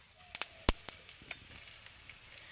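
Dried chillies, black mustard seeds and curry leaves hit hot oil, giving a faint, close crackle with a few sharp pops early on and then a softer, scattered sizzle.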